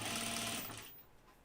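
Sewing machine running steadily while stitching a flight suit, a loud continuous motorized whir that stops about two-thirds of the way through, leaving quiet room tone.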